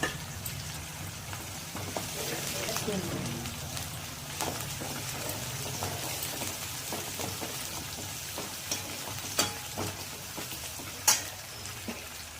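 Grated ginger and fennel seeds frying in oil in a pan for samosa filling, a continuous close sizzle like light rain with scattered crackles and a few louder stirring clicks toward the end, with no talk.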